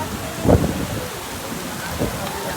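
Constant hiss of heavy rain falling nearby at a wedding, with a couple of brief low rumbles breaking through the steady downpour.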